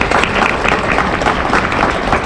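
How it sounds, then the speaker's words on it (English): Loud, dense applause from a gala awards crowd, a steady wash of many hands clapping at once that holds even throughout. "Give them another round of applause"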